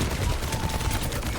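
Rapid automatic gunfire from a soldier character in the online shooter Overwatch, a dense continuous burst of shots with no break.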